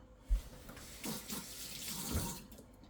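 A kitchen tap runs water over hands while making sourdough bread from scratch, a soft continuous splashing stream with a couple of low thumps, close and fairly quiet, with no talking.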